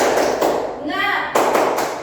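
Children in a microteaching classroom do the 'tepuk semangat' clapping routine together, a dense run of claps and taps with a short pause midway before the group clapping resumes loudly.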